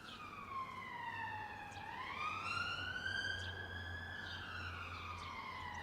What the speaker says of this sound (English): You can hear those sirens